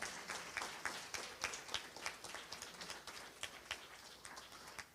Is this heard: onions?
no